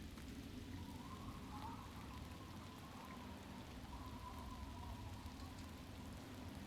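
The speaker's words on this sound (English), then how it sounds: "Look at this lovely rain." Quiet, steady rainfall patters in the Point Lookout area of a modded Fallout game, an even hiss of drops that continues without talk or pauses.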